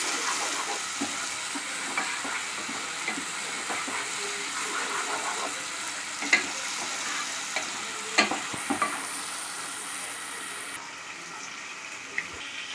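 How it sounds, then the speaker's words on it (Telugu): Ginger paste cooking in hot oil for a prawn curry gives a continuous soft sizzle with scattered light clicks and a few sharper utensil taps, steady and moderately quiet throughout. "అల్లం పేస్ట్ బాగా నూనెలో మగ్గాలి."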